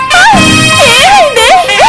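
A woman imitates a dog with loud, wavering, howl-like yelps rising and falling in pitch, close and continuous with brief breaks.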